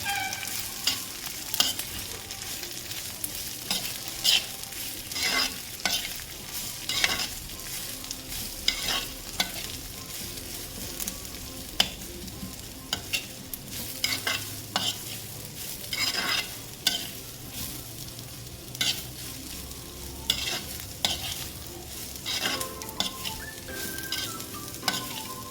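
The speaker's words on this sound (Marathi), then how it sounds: "शिमला मिरची आणि कोबी. भाज्या छान परतून घ्यायच्यात आपल्याला." Capsicum and cabbage being stir-fried for homemade noodles sizzle steadily up close, with frequent sharp scrapes and clatters of a spatula tossing the vegetables throughout.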